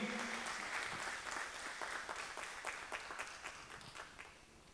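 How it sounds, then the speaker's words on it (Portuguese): A church congregation at a Portuguese-language worship service applauds, with a dense, sustained wash of clapping from many hands that slowly fades over a few seconds. "Aplauda Jesus bem forte."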